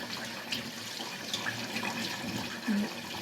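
Running tap water washes a whole raw chicken in a sink, a steady close rush of flowing water with slight splashing and gurgling shifts, no speech over it.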